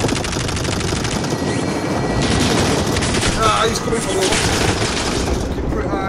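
Dense bursts of automatic gunfire from a Call of Duty Warzone match, rapid overlapping shots rattling steadily and loudly throughout amid in-game chaos and explosions, with a voice speaking intermittently underneath.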